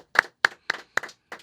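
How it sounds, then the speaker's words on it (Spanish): Five crisp, evenly spaced hand claps ring out close and loud in a quiet room, forming a brief call for applause rather than a crowd's sustained ovation. "Un aplauso."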